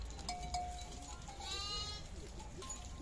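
Endangered Turkish Ödemiş Çapar sheep bleat in a farm pen, a couple of wavering calls rising over a busy background of other livestock and low rumbling noise.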